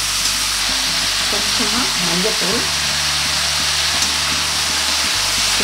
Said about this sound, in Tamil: மஞ்சத்தூள், கொஞ்சம் வதங்கட்டோம்.